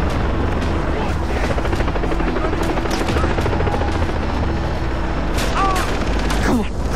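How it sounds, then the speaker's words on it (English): A helicopter in the video game Far Cry 3 thumps loudly and steadily while gunfire and booms break out around it, with a person talking over the din. "They have a helicopter or"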